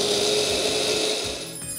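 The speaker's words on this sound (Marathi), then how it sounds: "मिक्सरच्या भांड्यामध्ये काढून घेतलेले आहेत आणि आता याची पण पूड करून घेऊया।" Mixer grinder running steadily as roasted horse gram is ground into powder, a continuous whirring grind that stays loud for a moment and then eases slightly near the end.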